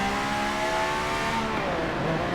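A Pagani Zonda engine in Forza Motorsport 7 revs hard and continuously, loud and close, its pitch climbing and then shifting mid-rev.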